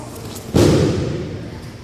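A single heavy thud as a kick lands during a jiu-jitsu self-defense demonstration, a sharp, loud impact whose thick low rumble fades slowly over the next second.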